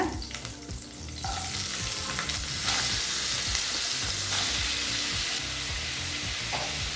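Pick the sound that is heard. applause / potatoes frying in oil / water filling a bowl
potatoes frying in oil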